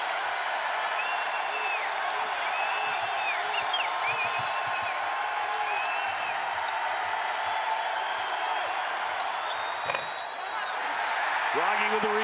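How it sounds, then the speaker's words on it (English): A college basketball crowd at a Creighton Bluejays vs Northwestern Wildcats game roars in a steady, loud wash of arena noise, with sneaker squeaks, ball bounces and commentators talking over it. "And now the crowd has come alive."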